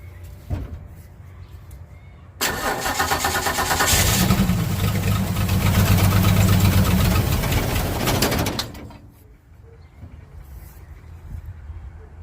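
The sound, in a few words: 1965 Ford Mustang engine starting and idling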